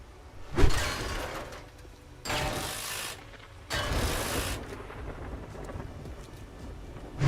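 A real thunderstorm rumbles outside during video game play: long, broad rolls of thunder swell and fade in three heavy waves over steady rain-like noise, fairly loud and close, with no speech.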